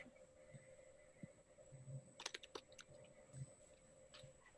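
Soft, sporadic typing on a computer keyboard during an online governing board meeting, with irregular quiet clicks and a short flurry of keystrokes midway, faint against a low background hum.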